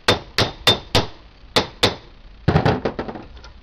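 A hammer drives a rivet into an aircraft brake pad, a series of loud, sharp metallic blows at an uneven pace, followed by a flurry of quicker, lighter taps at the end.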